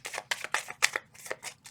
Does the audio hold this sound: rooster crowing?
no